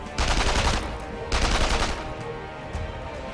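Rapid bursts of automatic gunfire from the Sniper Elite V2 video game, two loud sustained volleys followed by fainter scattered shots, close and dense, with no voices.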